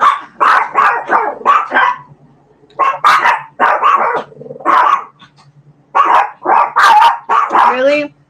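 A dog barking close by in bursts of sharp, rapid barks separated by short pauses, with some yips and growly tones mixed in, heard loud against a quiet room.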